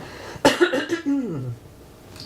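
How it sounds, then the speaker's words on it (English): A single close cough burst followed by a short voiced throat sound trailing off, then quiet. "I keep coughing today"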